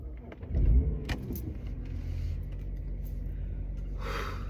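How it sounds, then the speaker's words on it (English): A car being started, with a jangle of keys near the start and the engine turning over and settling into a low, steady idle close by; no one speaks. "I feel the need to turn on my car."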